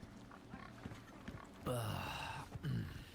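Grunting and snorting from a pig feeding in the video game Resident Evil 4: two short, fairly loud bursts over a quiet ambient background.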